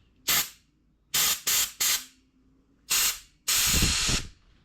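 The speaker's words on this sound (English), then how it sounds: "And when you follow it with compressed air, you'll see the brake cleaner blowing out through the other end" Compressed air blowing brake cleaner through a clogged brake hose, six sharp hissing blasts in an irregular rhythm, the last one longest, loud and close with no talk.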